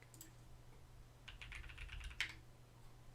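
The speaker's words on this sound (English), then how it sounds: "just typing on this, it sounds like just doing my day-to-day, opening up Spotify" Typing on a KBD8x Mkii hotswap mechanical keyboard: a short burst of quick, faint key clicks close to the microphone, with one louder clack near the end over quiet background hum.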